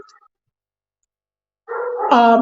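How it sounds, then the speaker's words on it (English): Dogs bark and yip nearby, a short burst of whining, tonal barks at the end after near silence, with a brief faint yelp at the start. "I don't know if you can hear the dogs barking in the background."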